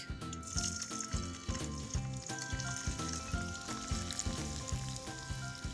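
Steady crackling sizzle of karela (bitter gourd) deep frying in hot oil, continuous throughout, with rhythmic background music playing over it.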